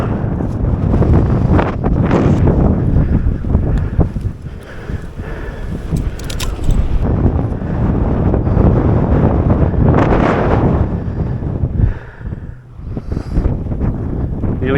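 Strong wind gusts across open outback desert, buffeting the microphone with heavy roaring rumble that swells and eases in waves, loud and constant throughout, with no one speaking.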